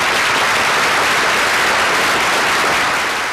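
Audience applause at a school eisteddfod music results announcement, a dense steady wash of clapping from a large crowd filling the whole moment, slightly tapering at the end.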